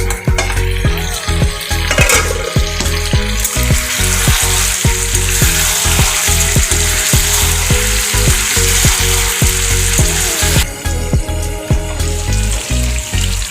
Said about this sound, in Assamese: ঢাকনখন দাঙি মই এতিয়া এবাৰ লৰাই দিম।